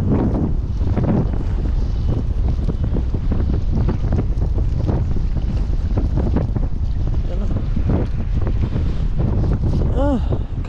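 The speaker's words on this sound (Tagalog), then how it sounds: "Lakas yung hangin." Strong wind roars and buffets the microphone nonstop on open water near a boat, a dense low rumble with gusting surges throughout.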